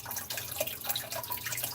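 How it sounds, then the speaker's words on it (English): Water trickling from the emergency overflow of a saltwater aquarium sump, a continuous bright splashing trickle with small drips, close by and steady, with no voices. "It's a trickling noise from their emergency."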